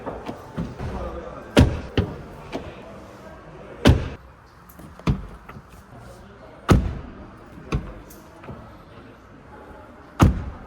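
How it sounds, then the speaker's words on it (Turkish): Rear doors of a Renault Megane 1.3 TCE sedan being shut, several separate solid thuds spaced a second or two apart, close by, with faint talk in between. "Kapı kapanma sesleri beklediğimden çok daha iyi."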